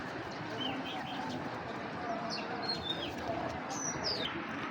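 Giribaj high-flyer pigeons coo and chirp softly in a loft, with several faint calls over a steady background of rustling and low murmuring.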